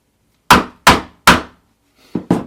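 A 1.5 inch strap end punch rounds the ends of leather strips for a picture frame. Five hard, close thumping strikes land, three evenly spaced and then two after a pause, with no talking.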